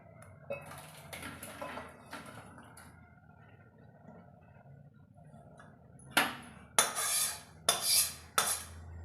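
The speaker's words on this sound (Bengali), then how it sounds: "এটাকে নামিয়ে একটা পাত্রে ঢেলে নেব।" Boiled potatoes tipped from a pot into a bowl, faint scraping early on, then several loud, close metallic clatters and knocks of pot against bowl in quick succession near the end.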